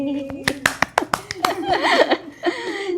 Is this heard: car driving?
no